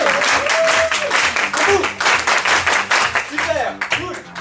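Theatre audience at the Comédie Saint Michel applauding during a comedy stage show, dense rhythmic clapping throughout with a voice talking and singing over it.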